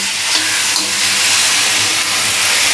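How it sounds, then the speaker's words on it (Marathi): Onion and tomato sautéing in a pan for a Malvani dry jawla (tiny shrimp) dish on a tawa, giving a steady, fairly loud broadband sizzle and hiss that runs unbroken, with no talking. "कांदा टोमॅटो मस्त की परतून झालेला आहे"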